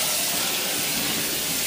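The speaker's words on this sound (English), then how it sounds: "Then just quickly clean out your pan." Water runs steadily from a kitchen tap as a pan is rinsed out in the sink, a constant close splashing gush with no talking.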